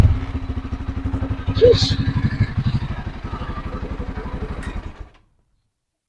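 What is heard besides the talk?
Motorstar Xplorer 250 V2 motorcycle engine running with silencer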